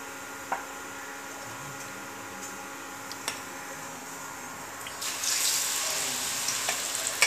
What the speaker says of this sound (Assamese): এতিয়া এই বেঙেনাখিনি এপিচ এপিচকৈ বেচনত লেটিয়াই ভাজি যাম।